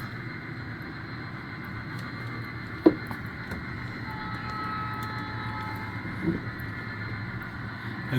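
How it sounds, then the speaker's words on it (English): Steady low mechanical rumble of a small N scale model train running continuously on a layout, with a couple of brief clicks along the way. "Someplace out here there's a train, another train."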